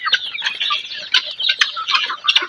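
Forty-day-old chicks in a covered pen peep and chirp continuously, a busy, close chorus of high overlapping calls.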